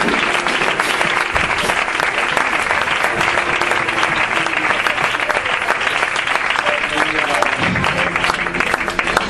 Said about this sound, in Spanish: Aplaude al Señor, que es bueno